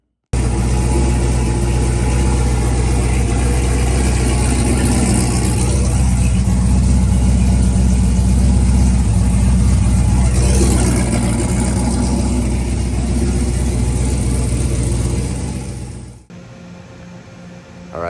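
A drag race car fitted with a borrowed Powerglide transmission runs after a cold start in near-freezing weather, a loud, steady, close engine drone lasting about sixteen seconds before cutting off abruptly, with no talk.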